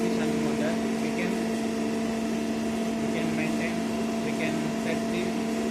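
An alternator driven by a DC shunt motor running at 1478 rpm gives off a steady, even machine hum with a strong tonal drone that holds without change for the whole stretch.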